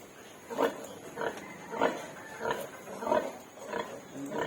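A sow and her piglets, less than a week old, grunt and oink in a pen, with about six short grunts coming at a steady rhythm, fairly near but not loud.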